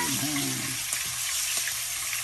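Hilsa fish frying in hot oil, a dense crackling sizzle with sharp spits and pops, close and steady.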